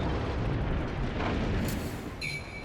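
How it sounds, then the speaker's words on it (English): HMS Warspite battleship firing a broadside of its main guns in World of Warships, a loud, deep, rumbling blast that keeps rolling for the whole moment, with a bright whoosh near the end and no voices. "firing my guns continually. As soon as they are reloaded, they take 30 seconds, firing a broadside onto this Ober"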